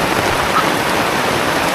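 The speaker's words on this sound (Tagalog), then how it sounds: "sobrang lakas ng ulan" Heavy rain pouring steadily as a dense, even hiss with no breaks, close and loud, with no voices.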